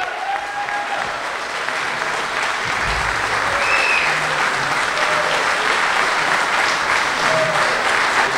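A crowd at a Detroit Tigers fantasy camp celebration claps steadily for Cy Young and MVP winner Guillermo Hernandez, with dense, sustained applause and a few faint voices mixed in.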